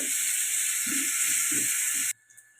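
Potatoes frying in oil for biryani make a loud, bright hiss with a few soft bubbling pops beneath it, then the sizzle cuts off abruptly near the end, leaving near silence.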